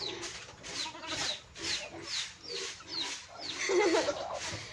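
Goats bleating in a rural province farmyard, a run of repeated short cries at a steady pace, fairly close, with a faint bird coo and no talk.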